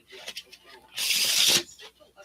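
A quick burst of tarot card shuffling, a crisp riffling flutter lasting about half a second, with faint voice sounds before and after.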